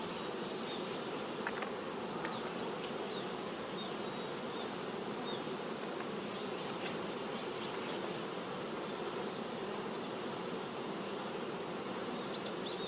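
Dense, steady buzzing of honeybees swarming around a hive while a colony is split without a queen cell, a continuous close-up hum with high insect whine, no voices.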